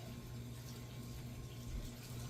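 Cold water pouring from a pitcher over salted zucchini for pickles, a steady, even rush of liquid, fairly quiet and close, with no break.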